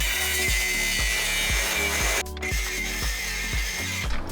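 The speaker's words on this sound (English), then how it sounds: "Completely had to angle grind it out." An angle grinder cuts off a seized bolt on a lifted Lexus GX470, a loud continuous whine with a steady grinding roar, briefly dipping near the middle and again toward the end.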